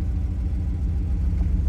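A Porsche 911 engine hums low and steady as the clutch is eased out very slowly in first gear, giving a smooth, even rumble with no sharp revving.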